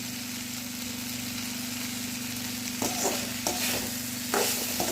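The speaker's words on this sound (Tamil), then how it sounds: "இது ஒரு 1 நிமிஷத்துக்கு நல்லா வதங்கி வரட்டும்" Okra (ladies finger) sautés in a pan for a Tamil-style fry, giving a steady, close sizzle with a few scraping stirs toward the end and no voices.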